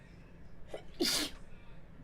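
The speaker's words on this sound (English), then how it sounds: "I swear I sneeze every time I stream." A single close sneeze with a short inhaled build-up before a sharp, hissy burst, over faint background noise.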